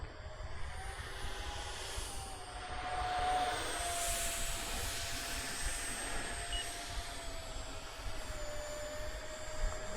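A model NGAD jet aircraft's engine runs at half throttle, a steady, continuous whine and roar with a sustained high-pitched tone, holding fairly even throughout and briefly swelling a little partway in.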